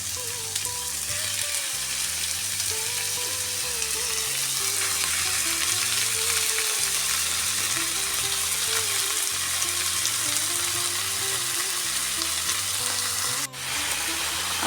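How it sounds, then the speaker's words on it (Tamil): Meat added to sautéed onions sizzling steadily in a pan for Japanese curry, a loud, continuous frying hiss with stirring scrapes and an occasional clink, heard alone. "வெங்காயம் ஒரு 2 நிமிஷம் அளவில் வதங்கினோடனே இந்த இறைச்சியை நான் போடுறேன்"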